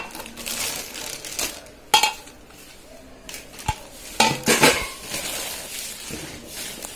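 A spatula knocks and scrapes against a granite-coated nonstick kadhai, giving scattered clinks and a few sharper clanks at low volume, with no talking.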